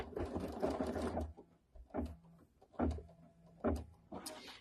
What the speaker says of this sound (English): now what it's going to do is it's going to sew a little notch here on the left and then a little notch on the right